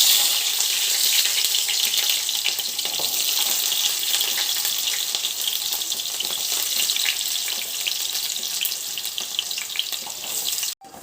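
Sliced onions deep frying in hot oil for a dum chicken pot biryani, a loud, dense, steady sizzle and crackle that runs unbroken and close for the whole stretch, with no voices.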